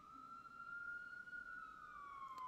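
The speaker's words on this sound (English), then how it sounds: "Here comes some more sirens." An emergency vehicle siren outside, a single steady wailing tone that slowly rises and then falls as it passes, heard faintly and at a distance.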